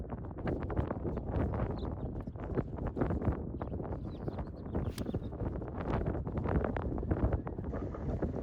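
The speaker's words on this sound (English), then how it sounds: "it also has a strong wind directly at my back" Strong wind on a golf course buffets the microphone with a loud, continuous roar and rumble, gusting unevenly throughout and masking any other sound.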